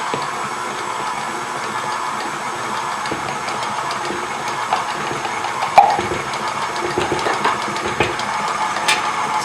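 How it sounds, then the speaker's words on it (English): A KitchenAid stand mixer beating sugar cookie dough at low speed, a steady mechanical whirring hum with irregular clicks and knocks from the bowl, close and without talk. "So you can hear the KitchenAid start to work while it's turning here."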